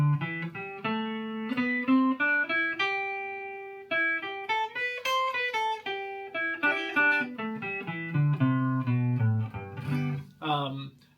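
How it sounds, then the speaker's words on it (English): Pentatonic scale with an added fourth note, played as a melodic run of clear sustained tones stepping up and down, ending with quick ornamented notes; instrument not identified. "There's a certain scale that we use in that video, and it's essentially the pentatonic scale"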